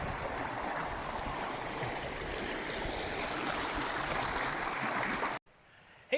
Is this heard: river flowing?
yes